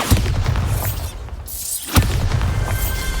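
A Bombarda spell detonates in a video game with a deep, booming blast, followed by a lull and a second sharp burst, each trailing off into rumbling debris and crackle.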